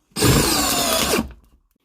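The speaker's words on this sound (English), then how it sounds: "DCD 709 hammer drill" A DeWalt DCD709 hammer drill spins up at high speed while driving a screw, giving one loud, steady whine of just over a second that stops abruptly and then winds down briefly.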